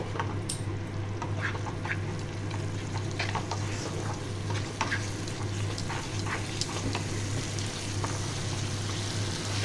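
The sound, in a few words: fish curry masala being stir-fried in a pan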